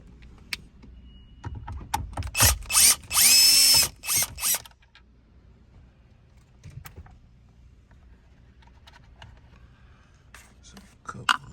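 A power drill with a Phillips bit backs screws out in several loud whirring bursts of about two seconds, followed by faint clinks and handling noises.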